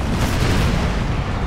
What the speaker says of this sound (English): We're able to see the cannon crews fire through it here.